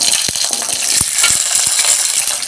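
Whole small shallots fry in hot oil for a garlic tamarind curry, a loud continuous sizzle with a few soft knocks of a spoon stirring through it.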